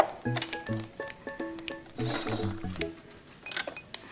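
A domestic sewing machine stitches scrap fabric in short mechanical bursts with a whirring, ticking motor and clicks, separated by brief pauses, close and moderately quiet.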